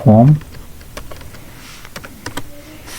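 Typing HTML form code on a computer keyboard: a few scattered, faint key clicks after a brief loud burst at the start, with quiet room noise between.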